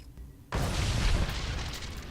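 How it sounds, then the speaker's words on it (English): An explosion in the video game Star Wars: The Old Republic bursts in abruptly after a quiet lead-in, a dense roaring boom that sustains and slowly fades, with no speech. "That was not a big explosion."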